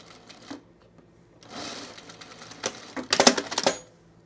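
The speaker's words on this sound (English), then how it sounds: "We're just sewing right through those gathers at the end there." A domestic sewing machine stitches through the gathered fabric at the end of a boho tunic seam, a steady whirring run that builds louder near the end with sharp mechanical clatter, no voices.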